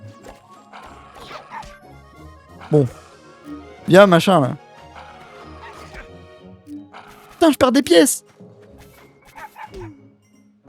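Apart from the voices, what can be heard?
dog barking in a video game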